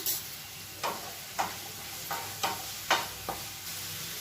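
Large onions sautéing with a little salt in a pan for an egg curry, a soft constant sizzle broken by seven or eight rhythmic scraping strokes of a spoon, close and fairly quiet, with no one speaking.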